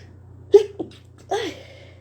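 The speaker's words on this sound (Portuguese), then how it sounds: "Falei que eu queria espirrar." A single sneeze from a speaker during a live Bible-study stream, a sharp nasal burst followed by a second, longer voiced exhale, close and clear over a faint steady hum.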